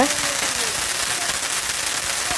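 Diwali firecrackers burst in a street during a family celebration: a loud, dense, continuous crackle of rapid pops fills the whole stretch, with voices faintly mixed beneath.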